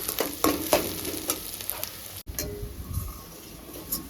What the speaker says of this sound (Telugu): రెండు రెమ్మలు కరేపాకు వేసుకుంటుండ బాగా ఫ్రై చేసుకోవాలి మంచిగా